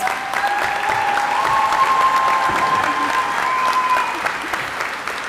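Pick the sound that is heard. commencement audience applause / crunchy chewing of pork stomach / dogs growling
commencement audience applause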